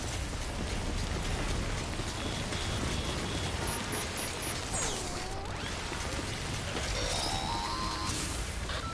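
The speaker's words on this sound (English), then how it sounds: "We've been getting near constant timefall in this region for a while now." Timefall rain in the video game Death Stranding pours steadily and densely throughout, a constant hiss of falling water with faint mechanical and electronic tones drifting over it.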